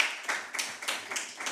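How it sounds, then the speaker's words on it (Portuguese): Brief, scattered clapping from a small audience greeting a professor at a health-talks panel on addiction and mental health, a handful of uneven hand claps rather than a full ovation. "Uma salva de palmas para o professor."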